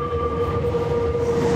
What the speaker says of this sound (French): Ils finissent plus tôt parce que Théo a souvent du mal avec l'agitation et le bruit du métro.